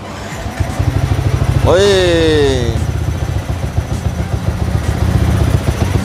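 A bored-up 220cc Yamaha Xabre motorcycle engine cranks with a rising whine, catches and settles into a loud, steady, close-up idle, with a brief voice over the start.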